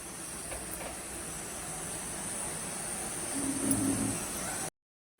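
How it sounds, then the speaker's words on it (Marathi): A pressure cooker of carrots and tomatoes for soup, set on a low gas flame, lets off a continuous loud hiss of escaping steam that cuts off abruptly near the end. "कुकर आता मंद गॅसवरतीच ठेवलेला आहे स्लो गॅसवरती तर दोन तीन शिट्या काढून घेणार आहे"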